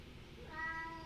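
A cat meows once in a studio, a short, faint tonal cry over a low background hum.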